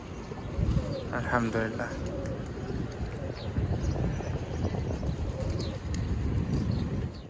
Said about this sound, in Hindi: और चिड़िया की आवाज़ भी सुने।